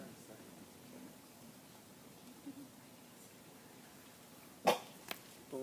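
A single sharp sneeze bursts out near the end of a quiet debate-room recording, loud against faint background hiss, followed by a smaller second sound.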